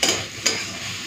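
Ghee is stirred into prawn and banana-stem chhechki frying in a pan. A loud sizzling hiss carries two brisk scraping stirs, one at the start and another midway, with no talking.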